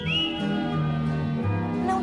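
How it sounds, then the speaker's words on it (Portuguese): A person whistles a short, clear melodic phrase with wavering pitch, close and fairly loud, with no other sounds around it. "dê um assobio."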